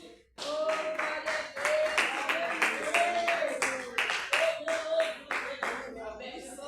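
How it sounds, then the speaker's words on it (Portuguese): A woman clapping her hands loudly and rhythmically during a worship service, sharp close claps in a quick steady beat, with a sustained voice singing or praying alongside. "Você vê ela com as palmas bem fortes"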